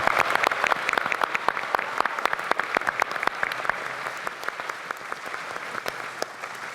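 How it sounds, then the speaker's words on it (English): An audience at the National Science Bowl high school finals claps for both teams, dense steady applause that gradually fades a little. "Audience, let's give both teams a big round of applause."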